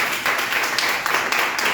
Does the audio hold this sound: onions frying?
no